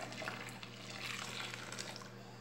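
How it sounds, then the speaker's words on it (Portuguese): One litre of hot water pours steadily into a soap mixture for a homemade concentrated fabric softener made from blue bar soap, a continuous splashing rush with no pauses or talk. "Eu vou colocar 1 litro de água quente aí agora, tá?"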